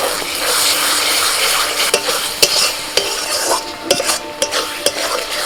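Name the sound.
spices frying in oil while stirred: cumin, coriander, Kashmiri chili powder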